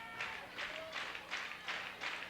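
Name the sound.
rhythmic crowd clapping at a softball game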